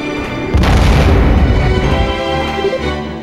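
A heavy, booming explosion of an enemy ship in the StarFox: Assault video game, arriving suddenly and loud, then rolling on as a dense rumbling roar with no talk.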